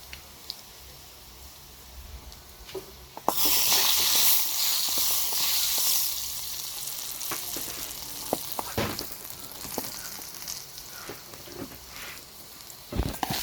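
Garlic and dried red chillies fry in hot oil, first with a quiet bubbling and then a sudden loud sizzle that settles into a steady crackle with occasional stirring clinks.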